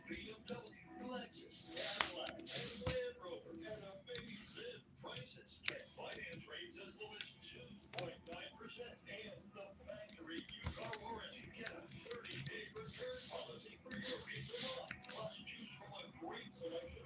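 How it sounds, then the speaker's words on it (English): Steady clicking of computer keyboard keys runs throughout at a quick, uneven pace, close and fairly quiet, mixed with speech in the background. "Yes, I'm still typing."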